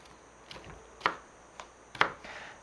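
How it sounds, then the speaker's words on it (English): A sharp knife chops tomatoes into wedges on a board: a handful of soft, close cuts, with two clearer knocks about a second apart. "we'll just chop these into some wedges, some little chunks"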